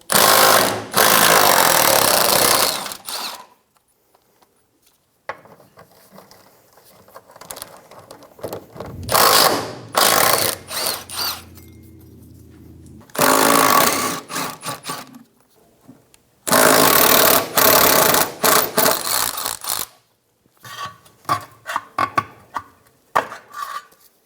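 A 14mm socket ratchet loosens the four cross member bolts on a 2003-2007 Infiniti G35, with loud, rapid clicking bursts of several seconds each, separated by quiet pauses and fainter handling noises.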